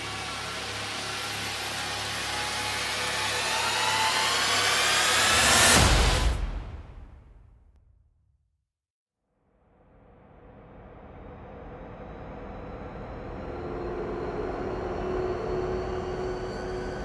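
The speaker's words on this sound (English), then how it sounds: "That's like a long riser with a hit. So this is more focused on long rises and hits." A long cinematic riser from the Risenge Pro sound library swells steadily in loudness, peaks in a dense rushing hit, then drops to near silence before a low, hissing tail slowly builds back up.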